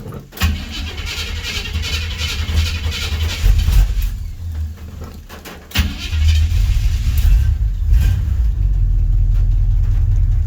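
A 1983 Chevrolet squarebody crew cab pickup, two-wheel drive and left sitting for a while, cranks and fires, then idles roughly and revs in loud, close surges with a brief stumble before catching again.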